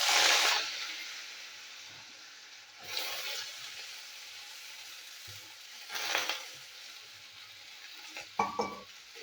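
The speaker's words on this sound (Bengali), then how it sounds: "আলু আমি ভেজে নেবো তেলেতে।" Potatoes frying in hot oil, a steady soft sizzle with a few louder bursts of crackling and a brief clink of a utensil near the end.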